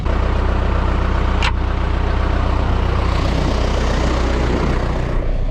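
A farm tractor engine idles with a steady low rumble, a brief sharp click or rattle of the switch-off and restart cutting in partway through, then the running drone carries on.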